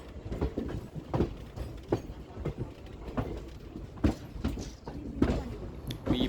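Onboard the Mumbai–Kolhapur Koyna Express as it rolls slowly into Miraj Junction: irregular thumps and rail clanks over a low rumble, with occasional rattles from the carriage, fairly quiet and close.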